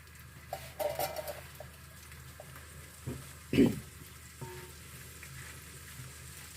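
Sausage pieces frying in oil in a skillet over a gas flame, a soft steady sizzle with a few louder pops and clatters of stirring, heard close and without talk.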